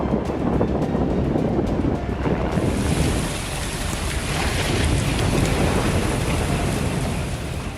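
Intense floodwater rushes in a loud, continuous broadband roar, steady throughout with no clear breaks, alone without talk.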